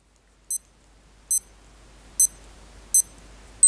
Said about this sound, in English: The beeps last a bit longer